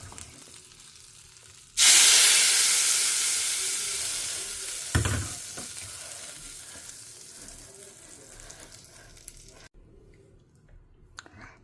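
Hot ghee hisses into a loud sudden sizzle as chilli powder and asafoetida go in for a tempering, then the frying noise slowly fades over several seconds, with a brief stir or clink midway and no talking.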